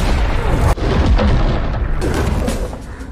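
A single sharp gunshot cracks early on against a dense, rumbling background of noise that continues afterward.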